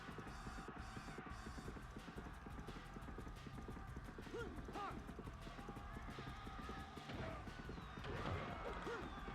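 Horse galloping in the video game Dynasty Warriors 2: a continuous rapid clip-clop of hooves, fairly faint, mixed with game battle noise and occasional whinnies, with a voice talking over it.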